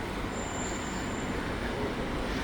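A train passes through Liverpool, a steady, loud rumble of rolling wheels and carriages with a thin, high squeal running through it, heard alone with no talking.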